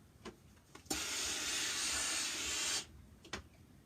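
A steam iron gives a loud, steady hiss of about two seconds while pressing the hem of a sewn dress, with soft handling taps before and after.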